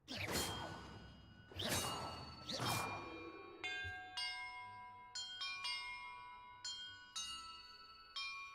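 In Hogwarts Legacy, three heavy whooshing strikes give way to a run of ringing bell tones at different pitches, each struck note sustaining and overlapping the next in a clear, resonant sequence.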